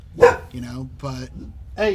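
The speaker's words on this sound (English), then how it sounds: "You're barking inside the house." A pet dog barks indoors in a house, a few short sharp barks and yips mixed in with someone talking close to the microphone.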